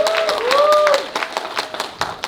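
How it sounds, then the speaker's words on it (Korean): A lecture audience at a seminar and book launch claps to welcome a speaker, heard as a burst of clapping that thins into scattered claps, with a brief tonal sound near the start. "퍼스널 브랜딩 분야의 조현신 대표님 큰 박수로 모시겠습니다."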